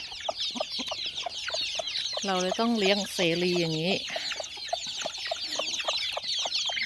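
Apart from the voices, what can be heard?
native chickens clucking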